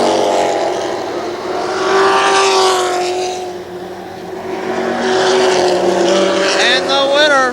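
ARCA Supercars race around the Kil Kare Speedway oval in 1994, engines loud and snarling as they sweep past, rising and falling in waves while a public-address announcer talks over the roar.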